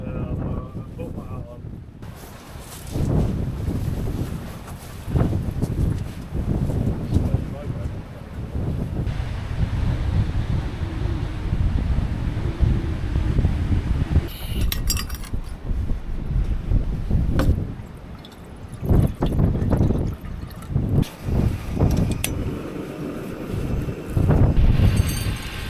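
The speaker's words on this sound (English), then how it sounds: "it had gotten very windy during the night" Strong night wind in the Scottish Highlands buffets the microphone in heavy, roaring gusts that swell and ease in waves, loud and close, with a voice speaking faintly underneath at times.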